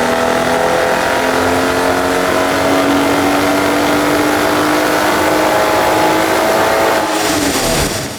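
A car engine, a B58 swapped into a BMW E46 Touring, revs hard and steadily on a dyno, holding a high droning pitch that climbs slowly, loud and continuous throughout.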